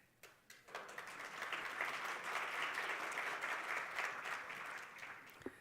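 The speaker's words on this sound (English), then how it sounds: "Please give Mr. Konskaramata a proper round of applause." Conference audience at a national green hydrogen event breaks into applause for a speaker, starting with a few scattered claps, swelling quickly into steady, full clapping, then tapering near the end.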